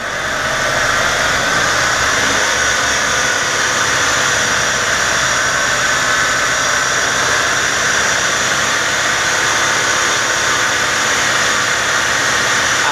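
An Audi A4 Quattro with a 2.0L FSI engine holds a steady 2000 RPM, a loud, even mechanical drone that stays constant for the whole stretch with no talk over it.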